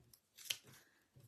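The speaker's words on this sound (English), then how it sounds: "let's just snip those off" A pair of scissors snips off fabric seam allowance in a sewing project, one crisp close cut with soft handling rustle around it, quiet overall.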